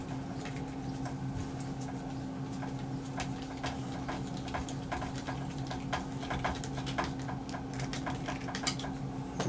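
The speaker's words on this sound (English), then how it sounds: "A 7mm wrench and snug these up." Bolts on a Baja off-road buggy build snugged with a 7mm wrench: rapid, uneven metallic ticking and clicking runs steadily over a constant low hum, close by with no talking.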